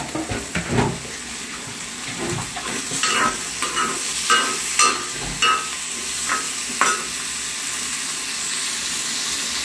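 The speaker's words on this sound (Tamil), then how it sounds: "நல்லா குக்கரில் நல்லெண்ணெய் விட்டுட்டு ஆயில் சூடாகிடுச்சு" Sesame oil heats in a pressure cooker for a village-style chicken curry, giving a steady close hiss and sizzle broken by several sharp metallic clinks and scrapes of stirring.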